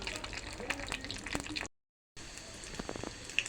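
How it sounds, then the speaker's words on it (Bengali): Small singaras frying in hot oil, a steady close sizzle with popping crackles that cuts out briefly and then resumes, at moderate level. "আমি সিঙ্গারা দিয়ে দিছি তেলের মধ্যে।"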